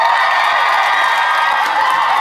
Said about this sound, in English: Okay, let me hear a cheer from Mindshift 1!